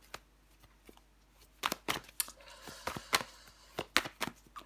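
Tarot cards are laid down on a spread on a table in a quiet room, making a string of close, faint slaps and soft rustles that come in an irregular rhythm.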